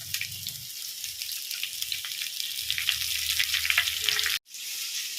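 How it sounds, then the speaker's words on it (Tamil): Onions sizzle and crackle steadily in a hot pan with chopped dried and green chillies, close up, with a brief cut near the end before the frying continues. "இதுக்கு மேலே வெங்காயம் போடுறேன்"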